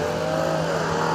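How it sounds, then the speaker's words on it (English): BMW X4 M40i exhaust note in sport mode, a loud sustained engine drone heard close and steady, with no talking. "Exhaust note, especially in sport mode."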